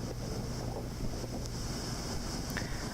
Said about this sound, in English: That's our neighbor's jetty with some waves splashing